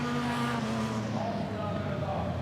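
A Supercar Lites rallycross car at full speed during a RallyX Nordic semi-final at Tierp, its engine a loud, steady roar that drops slightly in pitch as it passes, with race commentary underneath.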